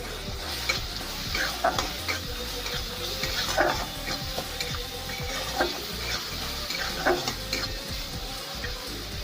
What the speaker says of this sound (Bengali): এগুলো আমি ভালো করে একসাথে নাড়াচাড়া করে ভেজে নেবো